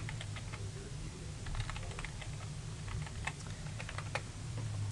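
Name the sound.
typing a Stata command on a computer keyboard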